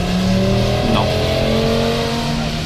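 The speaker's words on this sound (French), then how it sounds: "L'accélération de cette RS3 est absolument hallucinante." Audi RS3 accelerating on the Suzuka track, a loud, close in-car engine drone with rising tones as it pulls through the revs, with a person talking over it throughout.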